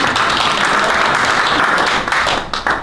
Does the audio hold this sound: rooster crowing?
no